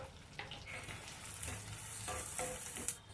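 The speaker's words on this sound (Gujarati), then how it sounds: "હવે ડુંગળીને આપણે 4 થી 5 મિનિટ માટે સરસ એકદમ એ ગોલ્ડન કલરની ના થાય ને ત્યાં સુધી શેકવાની છે તેલમાં" Chopped onions frying in oil in a home kitchen, a steady close sizzle and crackle with occasional stirring scrapes, ending in a sharper clatter near the end.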